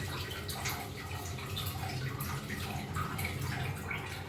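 Tap water runs steadily while rice is washed in a home kitchen, a continuous splashing, trickling wash with faint drips, close and even throughout with no voices.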